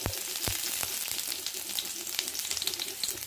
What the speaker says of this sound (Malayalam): ചെറിയ ഉള്ളി ഇട്ടു,